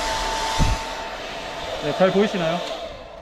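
A hair dryer powered from the outlet of a Hyundai Ioniq 5 electric car runs as a steady whir throughout, with a brief knock early on and a person speaking over it.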